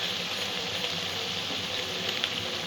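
Onions frying in a pan for chicken curry, giving a soft, continuous sizzle and light crackle at a steady level with no talking.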